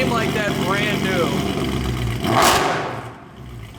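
A Mercedes C63 AMG with a freshly rebuilt engine idles close by, giving a steady, throaty low rumble with a brief swell partway through.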